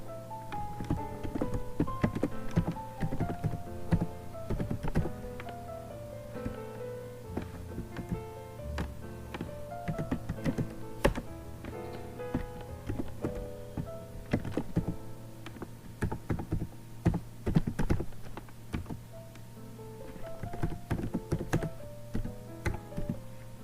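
Code being typed on a computer keyboard at a steady, uneven pace of close key clicks, with a constant low electrical hum underneath and no talking.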